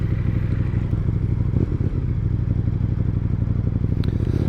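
A KTM 1290 Super Duke GT motorcycle engine runs loud and steady, a dense continuous rumble from close by with a brief dip partway through, and no voices.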